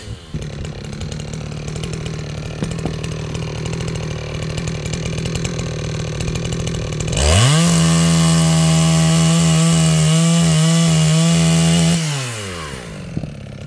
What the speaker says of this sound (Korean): 여름에, 올라오는 나무 좀 자르고 있어요.